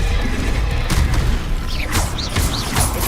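A Confringo fire spell explodes in the Hogwarts Legacy video game, heard as a few sharp booming bursts with whooshing crackle over a steady background of game music and ambience, with no talking.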